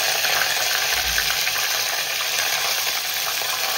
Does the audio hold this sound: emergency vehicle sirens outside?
no